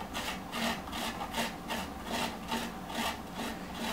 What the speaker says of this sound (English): Cut all the skin off. Into a cube and then grate.